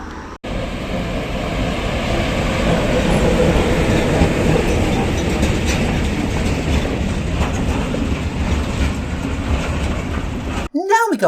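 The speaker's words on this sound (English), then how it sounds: "Big freight trains run down this track either side of the cars" A long, loud rumbling roar of a heavy freight train rolling past nearby in Prague, steady and continuous with rattling, fading abruptly at the end.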